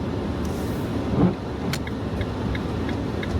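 Trucks rumble on a snowy road in a small Swedish village during a blizzard, a steady loud engine drone with a brief swell and faint higher squeaks or clicks.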